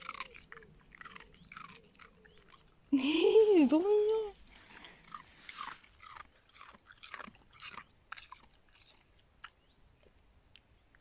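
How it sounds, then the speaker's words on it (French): Dog crunching on an ice cube, a scatter of close, crisp bites and chewing crunches throughout, broken by a brief high-pitched squeal of talk early on and a few spoken words. "elle croque dans le glaçon"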